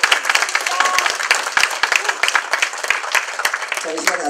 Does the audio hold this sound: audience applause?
yes